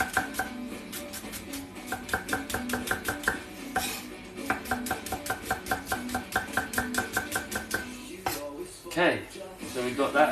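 Knife on a cutting board chopping king oyster mushrooms and vegetables in quick, rhythmic strokes, close and crisp, with a few clattering dish and utensil knocks and brief talking near the end.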